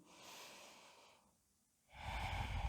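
Slow, deep yoga breathing during a vinyasa flow in downward dog, close up: a long airy exhale, a quiet pause, then a louder drawn-in breath with no talking.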